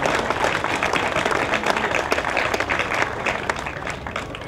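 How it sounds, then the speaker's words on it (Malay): A Malay cultural and music association's audience breaks into dense, sustained applause, a steady wash of many hands clapping at close range for the whole stretch, with no voices over it. "Berikan tepukan yang bergemuruh."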